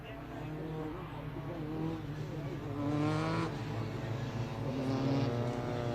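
Race cars at Mallory Park circuit gently weaving to warm their tyres, a steady layered engine drone with rising and falling revs as several cars pass, moderately near, under continuous commentary.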